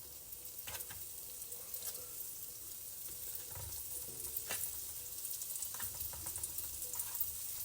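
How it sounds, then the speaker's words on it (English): A batch of donut holes frying together in oil gives a faint, steady sizzle with scattered small pops and clinks, heard up close but quietly and without talking. "you can just put all of them in and they will cook no problem"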